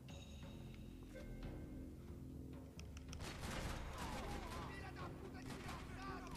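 Gunfire in Max Payne 3 from blind firing out of cover, a cluster of sharp shots and crackling bursts in the second half over game ambience, fairly loud and close.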